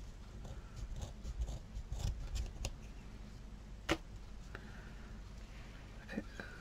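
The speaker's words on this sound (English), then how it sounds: "just on an angle, just trim your threads" Scissors trim sewing threads at an angle, giving a string of faint, quick close-up snips and light ticks with one sharper cut in the middle, set against quiet room noise.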